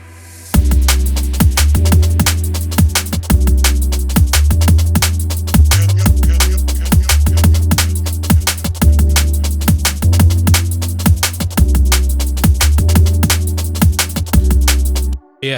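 Full drum and bass track plays loud and alone, with a dense fast breakbeat, heavy sustained sub-bass and bright synth layers running continuously for about fifteen seconds before cutting off.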